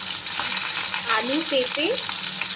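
Vegetables sizzle and fry steadily in a pan with ginger, a dense continuous crackle under a brief spoken phrase.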